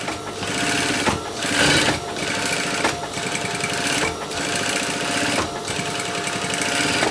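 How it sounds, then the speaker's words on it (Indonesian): Sewing machine stitching down the right side of a pair of shorts from top to bottom, a loud, close, steady mechanical rattle with brief pauses between runs of stitching. "yang pertama saya jahit ini adalah bagian kanan. Jadi dari bagian atas ke bagian bawah."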